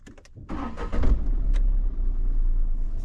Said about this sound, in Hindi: अभी मैं गाड़ी को स्टार्ट करूंगा, ये देखना।